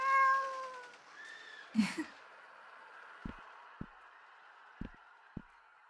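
A cat named Gizmo from the video game Sally Face gives a couple of soft, drawn-out meows at the start, followed by a brief louder cry and a few quiet clicks over a low background hum.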